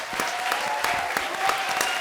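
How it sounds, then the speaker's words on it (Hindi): A studio audience applauds for guests on a comedy show, producing a dense, continuous patter of many hands clapping with steady loudness throughout. "सनी लियोन और सचिन जोशी के लिए जोरदार तालियां हो जाएं"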